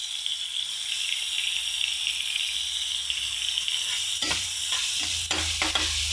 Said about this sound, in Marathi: छानपैकी असा कांदा तेलामध्ये टाकला की नंतर टोमॅटो टाकायचं